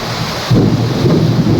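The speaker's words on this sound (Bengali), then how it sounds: "বিশাল জোরে বৃষ্টি হচ্ছে তুমুল আকারে।" Heavy rain pours down during a powerful thunderstorm, a dense loud roar that swells suddenly partway through as a deep rumble of thunder rolls in close by, with no voices.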